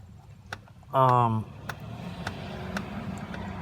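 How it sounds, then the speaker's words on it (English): Bolt spinning under a socket on a swivel and extension during valve cover and intake manifold gasket work on a 2008 Chevy Trailblazer, a short squealing whine followed by faint scattered ticks in a quiet space. "you can hear the noise that I'm making. That's the bolt spinning."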